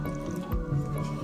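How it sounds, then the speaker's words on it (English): Milk poured into cake batter for a granny's cake recipe: a short, wet drip-and-squish splash sounds briefly over a steady tonal musical backdrop, close and moderately loud. "Will you pour some milk in there for me?"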